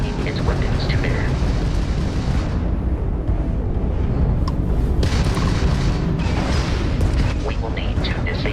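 Crimson Fleet ship weapons fire in Starfield space combat, a dense, continuous rumble of booming blasts and explosions that runs steadily throughout at high loudness.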